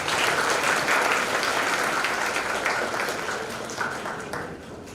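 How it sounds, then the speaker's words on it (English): A graduation crowd applauds the valedictorians at an A-level ceremony with dense, sustained clapping that fills the hall at a steady level before easing slightly at the end. "I want to have a big round of applause for the valedictorians."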